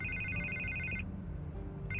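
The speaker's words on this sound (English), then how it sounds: "I can't get the phone to stop ringing." A telephone rings in a Telltale Batman video game cutscene, a bright electronic trill lasting about a second and starting again, over a low droning background.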